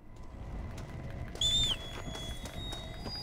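Horse hooves clip-clop steadily in the video game Red Dead Redemption: Undead Nightmare, with a brief high whinny-like squeal partway through, moderately close and without talk.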